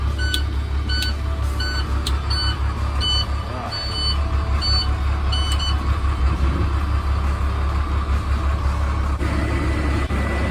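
A school bus engine runs at a steady low idle after starting, with a constant heavy rumble and repeated electronic beeps early on, under occasional voices.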